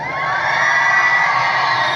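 A big crowd cheers and whoops loudly at a panel for the TV show The 100, a dense, steady roar of many voices with high-pitched shouts, close and unbroken.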